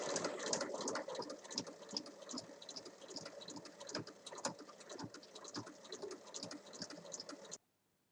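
A sewing machine stitches along a traced line on fabric for a small drawstring pouch, giving a close, rhythmic, rapid tapping hum that runs steadily before cutting off abruptly near the end.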